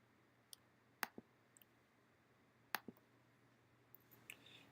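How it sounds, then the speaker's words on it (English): A computer mouse gives several short, sharp clicks at irregular intervals in a quiet room, some arriving as quick doubles, with no talking over them. "I can highlight it just by right-clicking over it."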